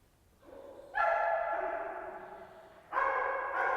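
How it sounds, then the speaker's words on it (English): A police K9 dog barks from a distance inside a building: two separate bark bursts, each a tonal, sustained howl-like bark, faint and slightly muffled. "if you can hear him barking, that's my dog indicating that he's located someone within the building"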